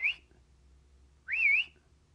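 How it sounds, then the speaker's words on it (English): A person whistles to call a dog, two short, clear rising-and-falling whistles, the second longer and louder, heard alone against a quiet background. "You just whistle this."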